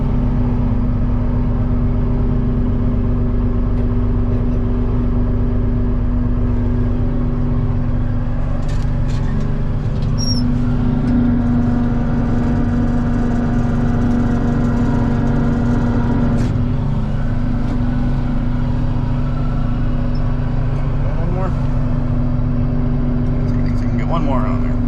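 A tractor pulling a Heil scraper to dig a pond drones loudly and steadily with a low, continuous engine rumble that rises slightly mid-way, while a person talks over it.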